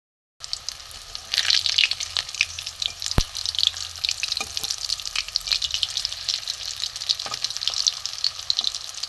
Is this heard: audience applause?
no